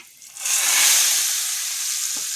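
Spiced oil tempering poured into cooked dal bursts into a loud, bright sizzle that swells within the first half second, then settles into a sustained hiss with a faint stir near the end.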